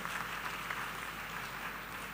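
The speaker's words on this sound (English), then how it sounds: "Please let us give them a round of applause." A church congregation claps during a second service introducing a reverend, a steady, faint wash of applause from a distant crowd lasting a couple of seconds.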